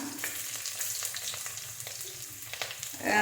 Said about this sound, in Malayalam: ഒന്ന് മൂത്ത് കഴിയുമ്പോൾ ഇതിലോട്ട് ഒരു 5 വെളുത്തുള്ളി ചെറുതായിട്ട് അരിഞ്ഞത് ചേർക്കാം.